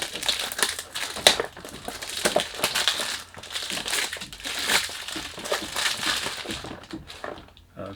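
Packaging of an Ajyad Billionaire Affaire perfume box crinkles and crushes close up during unboxing, a steady stretch of rustling, crackling paper and cardboard with sharper snaps along the way, no talking.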